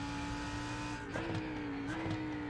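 A Lamborghini Huracan Evo GT3 racing at Watkins Glen in the iRacing simulator, its engine droning loud and steady with a brief dip and pitch shift as it brakes and accelerates again.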